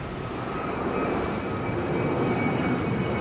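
A JetBlue jet climbs away after departing Heathrow, a steady, fairly faint broadband engine roar with a thin whine, distant and unbroken.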